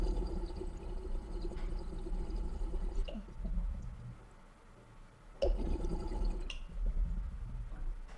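Half a gallon of water drains from a pipe with loud gurgling, sloshing surges that rise, ease off and then burst back in a second strong rush, with no talk.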